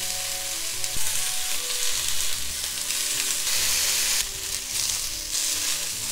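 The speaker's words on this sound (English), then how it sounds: "If it's possible, try to grill the side that hasn't gotten cooked yet." Shishito peppers sizzle and fry in a pan at home, a steady close hiss of hot oil with small pops and occasional stirring clatter, continuous throughout with no talking.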